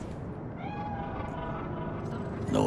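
A cat meows in the video game Cyberpunk 2077, a drawn-out, moderately loud call over steady ambient game background noise, with a short louder burst at the end.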